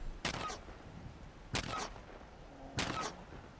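An enemy Liberator robot in Fallout 76 fires, three evenly spaced sharp gunshot bursts with short echoing tails, at a moderate distance.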